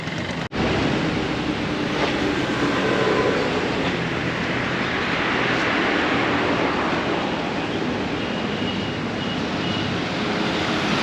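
Steady, loud rumbling roar of a metro train running on rails, continuous broadband noise with no talking, a brief dropout near the start.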